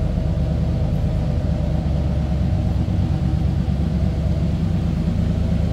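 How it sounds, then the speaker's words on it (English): A 1976 Chevrolet Malibu Classic with a mild, stock-style exhaust idles steadily, giving a continuous low rumble that stays even and close throughout with no voices. "Nothing crazy over the top for the exhaust,"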